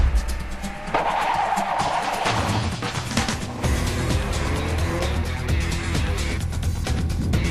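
BMW 330i accelerating hard on a test track, a loud continuous engine roar rising in pitch through the gears, with tire noise and a brief shift dip partway through.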